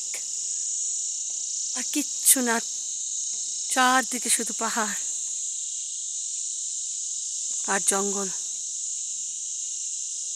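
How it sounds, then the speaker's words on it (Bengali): Constant high-pitched trilling of crickets in a Himalayan village fills the background while a person speaks a few short phrases over it. "আর শুধু ঝিঝি পোকার ডাক"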